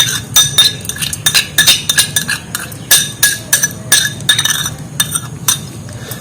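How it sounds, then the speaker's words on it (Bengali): Spoon clinking and scraping against a bowl while mashing palm pulp together with sugar, a rapid irregular run of sharp metallic taps, close and loud, with no voices. "আর এটা পুরো ভালো করে মিক্স করে নেব তালটা আর চিনিটা"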